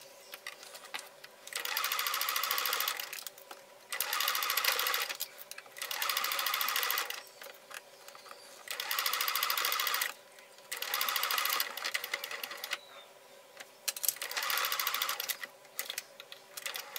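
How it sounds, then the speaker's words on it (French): A domestic sewing machine stitches a seam around the edge of a patchwork fabric pouch, running in about six steady bursts of rapid mechanical whirring, each a second or two long, separated by short quiet pauses. "on va simplement faire une petite couture partout comme ça, en haut à 5 mm environ"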